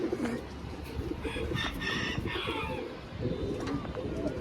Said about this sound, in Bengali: কবুতরটা ভাই অনেক ছটফট কবুতরটা ধরে রাখা যায় না